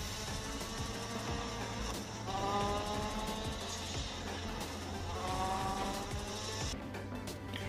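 A racing video game car drifting with a steady engine drone and rising, whining revs, continuous and fairly loud throughout with no voices.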